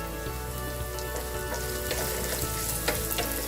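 Ginger sizzles steadily in hot oil in a pan after the heat is switched off, a close, even frying hiss with faint crackles and one small pop near the end.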